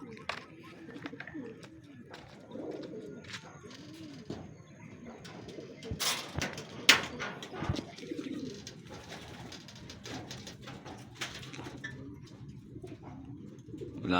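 A racing pigeon coos in low, repeated rolling calls at close range over about fourteen seconds. Other birds make faint chirps, and handling noises and brief clatter break in partway through.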